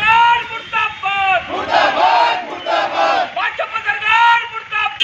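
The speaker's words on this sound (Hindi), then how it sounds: "मौके पर सरकार के खिलाफ नारेबाजी करते हुए प्रदर्शन भी किया गया है।" A crowd of protesters in Gairsain, Uttarakhand, chants slogans against the government, many voices shouting together in loud rhythmic bursts that continue throughout.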